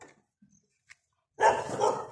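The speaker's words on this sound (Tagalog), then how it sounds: "Ay, may aso." A dog barks once, loud and fairly close, after a few faint scattered sounds.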